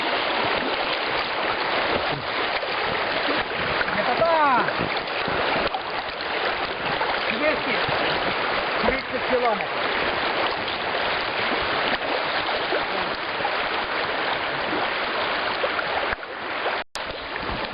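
River water rushing and splashing around a raft on the Chechva river in the Carpathians, a steady loud wash of current close by with no talk.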